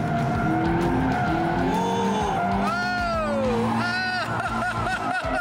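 Rear-wheel drive car accelerating hard around a corner: loud, steady engine roar with tires squealing and sliding in rising and falling wails, close and continuous throughout.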